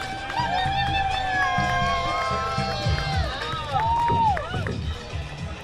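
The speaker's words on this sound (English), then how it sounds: "Let's give her an applause." A crowd at a political rally in Hawaii cheers and applauds, with loud shouts and whoops rising over a steady rumble of voices and clapping throughout.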